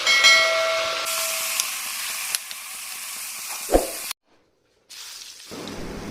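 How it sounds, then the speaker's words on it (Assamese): Onion, ginger and garlic frying in oil in a wok, a loud steady hiss with scattered crackles, cutting off into near silence midway before a softer hiss returns. "একেটা মাছ ফ্ৰাই কৰা কেৰাহীটোতে মই পিঁয়াজ আৰু আদা নহৰু অলপ ভাজি ল'ম"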